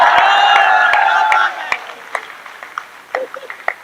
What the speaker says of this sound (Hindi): जितने लोग ताली बजा रहे हैं सबकी भावना मैं समझ सकता हूं।